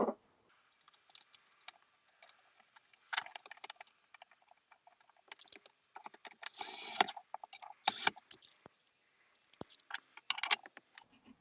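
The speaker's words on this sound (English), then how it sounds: "Now we're going to put the brackets back into place." Metal console safe brackets are set back in place and fastened with number 2 Phillips screws, giving scattered close clicks, taps and rattles with quiet gaps between them.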